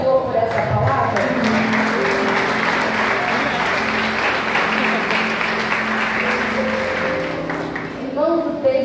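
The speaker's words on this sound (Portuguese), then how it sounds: "Aplauda o Senhor por essa palavra." A church congregation applauds after a Bible reading, loud sustained clapping from many hands running nearly the whole time and tapering at the end, with a voice faintly present underneath.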